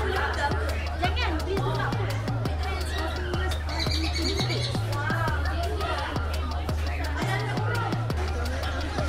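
Cockatoos in an aviary at a bird park give repeated harsh squawks and chirps over a busy crowd, with people talking nearby and a steady low rumble underneath.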